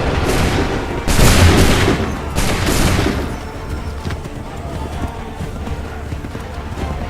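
Musket volley fire in Assassin's Creed III Remastered: loud bursts of massed gunshots crackle through the opening seconds, then the din trails off into a quieter battlefield rumble with hoofbeats and commotion.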